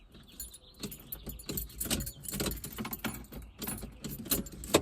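Keys jangle and clink in the ignition of an 80 series Toyota Land Cruiser truck with a new fuel pump, a close, busy metallic rattling that continues in bursts throughout with no talking.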